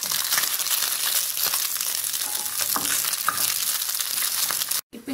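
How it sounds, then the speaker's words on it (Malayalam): Fish frying in reused oil, a steady close crackle of bubbling fat that runs unbroken before cutting out briefly near the end; no one speaks. "എടുത്ത എണ്ണയിൽ തന്നെയാണ് ഞാനിപ്പോൾ മീൻ പൊരിക്കാൻ ഇടുന്നത്."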